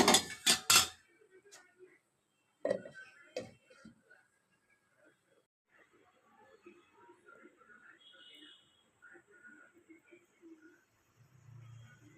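Lid placed on a pot of cooking chicken, several loud metallic clanks close by at the start, then a softer clatter, followed by quiet talk and faint kitchen noise.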